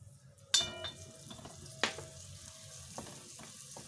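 A low sizzle of black pepper and spices frying in oil runs throughout, with a few sharp clinks and scraping stirs over the crackle.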